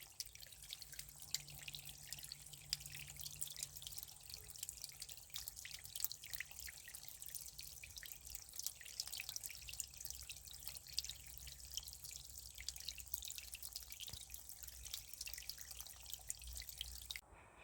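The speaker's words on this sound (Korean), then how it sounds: "잠시 10초만 눈 감고 물소리만 들어보십시오" Steady mountain water drips and trickles in a continuous, soft patter, quiet and close with no voices over it.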